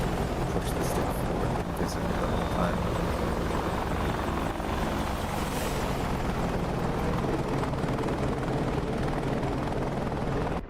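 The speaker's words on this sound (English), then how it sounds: "That Chinook does look cool." A Chinook helicopter in the DCS flight simulator drones on as a steady, loud rotor and engine roar that fills the whole stretch without letting up.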